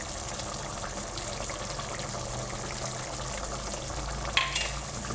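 Mutton masala being stirred in a pot on the stove, a steady low sizzling simmer with scraping stir sounds and one brief sharp clink near the end, no voices.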